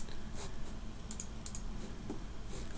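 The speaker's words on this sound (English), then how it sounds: "we're going to type in their name" Keys clatter on a computer keyboard as a name is typed, a quick uneven run of soft clicks, close and faint, with no voices.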